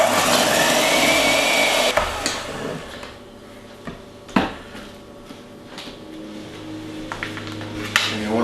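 An electric mixer beats egg whites and sugar in a bowl for a soda cracker torte. A loud whirring burst at the start gives way to a steadier hum with sharp clacks and knocks of the beaters against the bowl.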